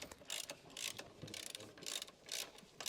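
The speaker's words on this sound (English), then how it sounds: "Use a large 14mm short socket with a large ratchet wrench to tighten the rear bushing bolts" Large ratchet wrench with a 14mm short socket tightening rear bushing bolts on a 2007 Honda CR-V front lower control arm, giving a run of quick ratcheting clicks in repeated bursts at close range.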